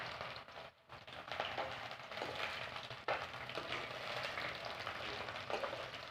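Green chillies and onions fry in a pan with a soft, steady crackling sizzle that runs throughout, fairly quiet and uninterrupted, with one brief dip near the start.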